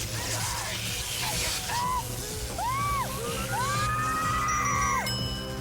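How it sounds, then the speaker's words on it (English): A cartoon voice screams from the animated show Oddballs, several rising and falling wails in a row, loud and close over a steady hum of background music. "he actually knows how to scream."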